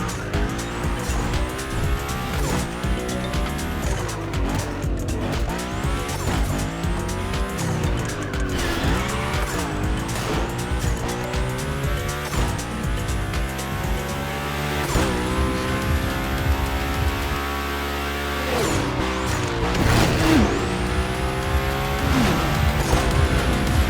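The Hoonicorn in a Hoonigan gymkhana run in The Crew Motorfest, engine revving and dropping repeatedly with continuous tire squeal as the car slides and drifts, loud and close throughout.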